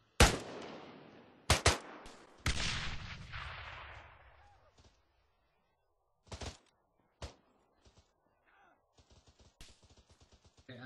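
Shots ring out in a military video game, starting with a loud dense burst of gunfire that trails off, then scattered single cracks and a run of quick light shots, with a voice heard faintly.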